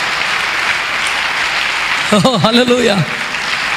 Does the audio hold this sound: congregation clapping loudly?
yes